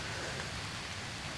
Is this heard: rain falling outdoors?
yes